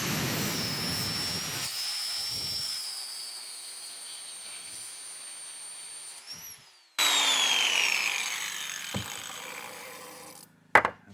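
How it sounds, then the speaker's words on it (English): An angle-grinder cutting wheel grinding through metal on a clamp for a bucket fork, a loud steady whine that fades and stops, then restarts with a sharp rising screech before cutting out, followed by a couple of clanks. "now I need a new cutting wheel"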